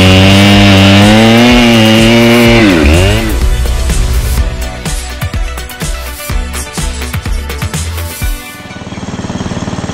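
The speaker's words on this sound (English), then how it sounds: "we're going to use the yard machine splitter" A Yard Machine log splitter works through firewood: a loud engine drone with a swooping pitch shift, then a run of sharp cracking and creaking bursts as the wood gives way, ending in a steady engine hum.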